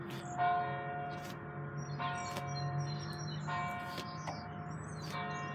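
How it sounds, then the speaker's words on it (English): Church bells ringing on a Thursday, several strikes heard at a distance over a faint background hum, each toll sustaining and overlapping the next. "Church bells ringing."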